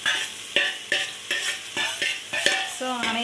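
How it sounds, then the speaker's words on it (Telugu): Mustard seeds, cumin, curry leaves and green chillies sizzling in a pan, steady frying crackle broken by about eight rhythmic scraping stirs of a utensil, close and clear. "ఆవాలు జీలకర్ర అండ్ కరివేపాకు పచ్చిమిర్చి వేసాక బాగా వేగిన తర్వాత నెక్స్ట్ ఆనియన్ వేసుకోవాలి"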